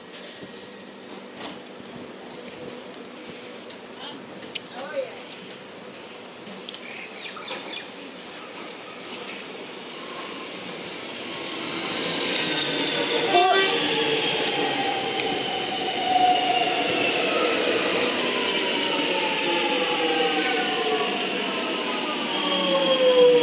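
A Melbourne Metro train bound for Flinders Street approaches Holmesglen station, first as faint distant rumble and then growing into louder wheel and rail squeal with rising and falling tones as it draws near and arrives.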